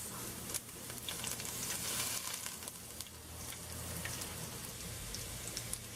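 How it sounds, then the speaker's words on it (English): Onions and curry leaves sizzling in hot oil, a dense continuous hiss like light rain, fairly faint and steady, with a few small crackles and no voices. "Once the oil is nice and hot, I'm gonna add the onions and some curry leaves or carapilla leaves"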